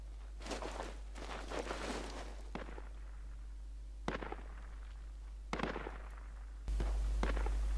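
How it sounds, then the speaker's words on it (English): Gunfire in the Project Reality military shooter: several separate sharp cracks at uneven intervals, some with bursts close together, fairly faint over a low steady hum. No voices. "Could that be our friendly shooting at us?"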